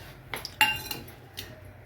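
A metal utensil clinks and taps against a kadhai while dry coconut is roasted, a few light, bright knocks scattered over a short, quiet moment.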